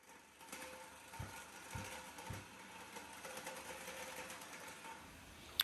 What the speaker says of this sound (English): I'm just grinding down the adhesive at the moment.